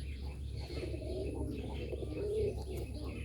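Bagha pigeons coo in a low, repeated rolling murmur over a steady background hum, with soft chirps from other birds nearby.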